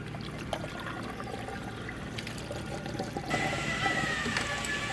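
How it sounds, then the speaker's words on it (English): A whole bottle of bleach is poured out in a steady, quiet trickling stream that grows slightly louder and brighter toward the end, with low background noise underneath. "I'm gonna put that entire bottle. Let's pour it in."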